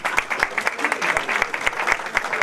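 Audience applause after a talk on marijuana, CBD and opioids, a steady patter of close clapping from a modest crowd with audible individual claps, lasting throughout.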